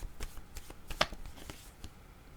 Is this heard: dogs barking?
no